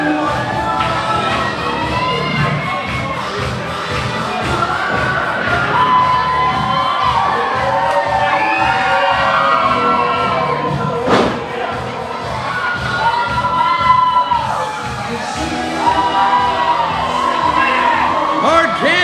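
Crowd at a Berkeley Springs event cheering and shouting, a dense mix of voices and whoops with scattered thumps, steady and close throughout.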